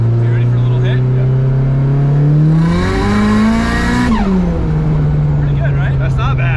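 A Nissan 180SX engine revs hard under acceleration, climbing in pitch over a couple of seconds before dropping back to a steady drone, loud and close with voices faintly underneath.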